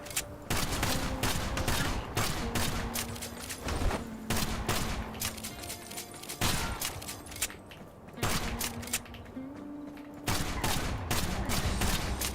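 Rapid bursts of video game gunfire from an outlaw-style shooter crackle in dense volleys for twelve seconds, with brief pauses between flurries and a sustained game soundtrack underneath.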